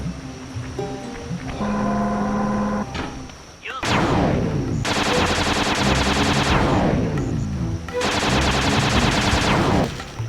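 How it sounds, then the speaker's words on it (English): Shooting down enemy missiles in Sly 2 brings a tonal electronic cue, then repeated loud bursts of rapid-fire shots, each trailing into a falling sweep, with a game voice heard early on. "Shoot down the enemy missiles before they hit you."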